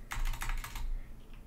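A burst of quick computer-keyboard typing during a basketball card break, several rapid clustered keystrokes close to the mic that stop abruptly and leave a quiet tail.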